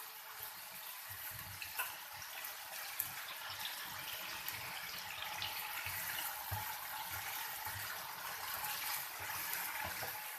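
Potatoes fry in a pan for aloo singri sabzi, with a continuous quiet sizzling hiss and scattered small pops, close and steady, with no one talking.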